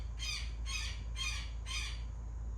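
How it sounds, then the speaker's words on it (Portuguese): Birds squawking in four evenly spaced, harsh bursts over a steady low hum, fairly faint and with no voices. "Até os pássaros se alegram."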